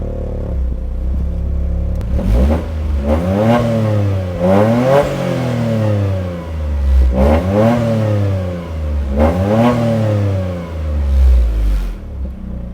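Toyota GR Corolla with its factory exhaust revving hard, loud and close: four rising-and-falling rev sweeps over a steady idle rumble, with no talking.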